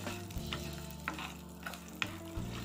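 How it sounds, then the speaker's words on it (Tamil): Small onions fry in oil for okra (ladies finger) chutney, a steady sizzle with a few clinks and scrapes of stirring, plus low humming tones underneath; no voices. "அந்த எண்ணெயிலே நல்லா ஃப்ரை ஆகிற மாதிரி நல்லா வறுத்து எடுத்துக்கணும்"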